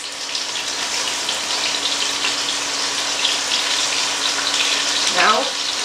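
Chicken sizzles in a hot pan with a steady, loud hissing crackle close by, and a brief voice is heard near the end.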